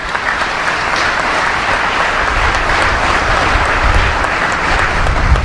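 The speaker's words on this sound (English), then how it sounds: "I would ask for a quick round of applause for all the folks who do this" Sustained audience applause at a US Indo-Pacific Command change-of-command military ceremony, a steady dense wash of many hands clapping that stays loud and even from start to finish, with no voices over it.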